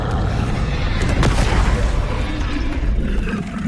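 An Expelliarmus spell cast in Hogwarts Legacy lets out a loud booming magical burst with a sharp crack near the start, then a dense rumbling wash that stays heavy throughout.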